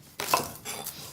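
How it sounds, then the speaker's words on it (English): A knife finely slicing celery on a cutting board makes a couple of quick, close, crisp cuts with light clatter, heard alone without talk. "So if you can finely slice that for me, the celery, and I'll finely slice this."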